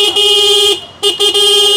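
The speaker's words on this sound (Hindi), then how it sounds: "ये इसके हॉर्न है जो कि इसके अंदर लगा दिए गए हैं" Loud, steady horn blasts from a Hero Xtreme 125R motorcycle sound up close, three honks in a row with short breaks between, a bright buzzing horn tone.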